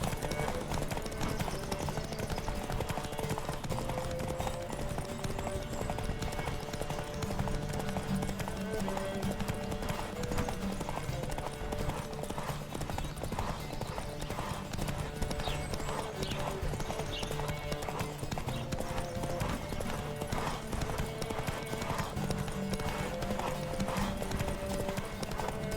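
A horse gallops with a steady rapid clip-clop of hooves in The Witcher 3, continuous and close over a bed of game music and ambience.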